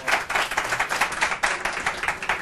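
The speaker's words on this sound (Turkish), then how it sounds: "Bir alkış gelsin." A studio audience at a Turkish TV entertainment show breaks into loud, dense applause, many hands clapping together in a continuous, rhythmic burst close to the microphones.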